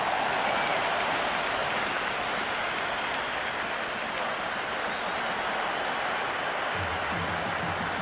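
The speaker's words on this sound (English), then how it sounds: "It's evident and ever so audible that the crowd is at near bursting point at today's play." Stadium crowd cheering at a cricket match in the Cricket 26 video game, a loud, steady roar of thousands of fans that holds without a break from start to finish, with a low rumble swelling near the end.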